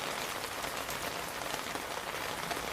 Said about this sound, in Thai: ฝนตกตามพยากรณ์อากาศเลย เนี่ยฟังแป๊ะแป๊ะแป๊ะลงมาอีกนะ